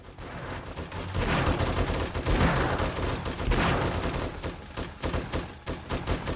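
Automatic turrets blasting at zombies in 7 Days to Die during a 320-zombie horde spawn, a dense, sustained barrage of rapid gunfire that swells after the first second and keeps rattling steadily, loud and close.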